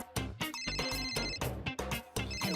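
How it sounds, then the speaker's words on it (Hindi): A loud musical ringtone plays in rhythmic pulses, a bright repeating melody with a steady beat, close to the listener. "हाँ फोन आ गया। अरे बाप रे, तो दया का फोन है।"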